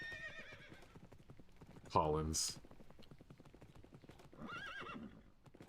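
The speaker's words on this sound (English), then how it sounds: "Let me grab a horse." A Minecraft horse gives a short whinny and clip-clop sounds in the middle, mixed with game effects, while a person talks over it before and after.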